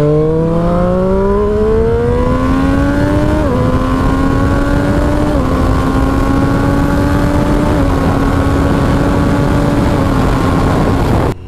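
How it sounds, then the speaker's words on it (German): Triumph Street Triple RS three-cylinder engine pulling hard through several quick upshifts, its smooth, loud whine climbing in pitch and dropping with each shift, recorded close with steady wind noise and no talking. "dieser Dreizylinder, der läuft so seidenweich."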